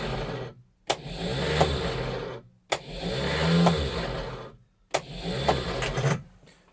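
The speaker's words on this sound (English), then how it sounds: "Let's encourage the starter motor to" Three separate bursts of a car's starter cranking an engine that won't catch, each broken off by a short silence. Between attempts the choke is pulled out on the older car, which is started in the morning.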